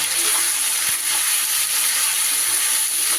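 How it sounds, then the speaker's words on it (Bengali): Ginger and green chili paste frying in a pan for a vegetarian cabbage dish gives a steady, close sizzling hiss that runs unbroken throughout, with no voices. "বেশ সুন্দর করে আদা আর কাঁচা লঙ্কাটাও আমি কষিয়ে নেব"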